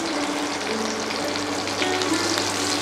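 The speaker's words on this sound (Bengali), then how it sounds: "পেস্টটা মাঝারি আঁচে খুন্তি দিয়ে চেপে চেপে ভাজুন।" Prawn paste frying in a pan over medium heat with chopped coriander and green chilli, giving a steady close hiss and sizzle with faint scraping as it is pressed down.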